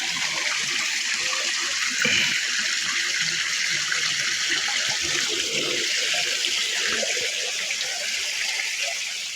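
Water gushes out through the lifted sluice gate of a fishpond at low tide, a steady rushing flow that holds continuous and fairly loud, with faint voices in the background.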